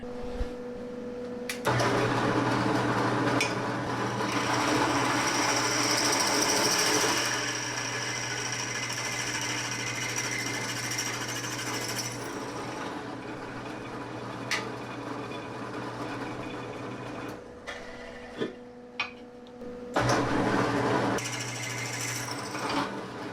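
A handheld drill bores a 6mm hole for a Jeep A-pillar handle screw, a loud buzzing whine that runs steadily for about ten seconds, drops to brief bursts and short stops, then surges again near the end.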